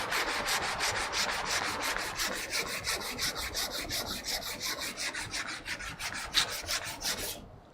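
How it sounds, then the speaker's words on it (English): Wood is hand sanded with 180-grit sandpaper wrapped on a cork block, a loud, rhythmic back-and-forth scratching of about two strokes per second that runs until it stops abruptly near the end, with no talking. "Now I'm gonna get a little piece of 180, my cork block"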